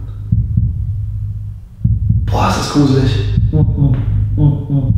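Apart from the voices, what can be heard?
own heartbeat heard inside a dark water tank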